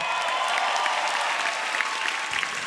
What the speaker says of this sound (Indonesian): Segini doang nih sambutan buat gue, tepuk tangannya.